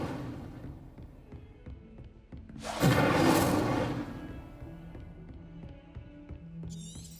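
An Incendio fire spell in Hogwarts Legacy bursts out as a single roaring whoosh of flame that swells and fades within about a second, set against a quiet low ambient hum.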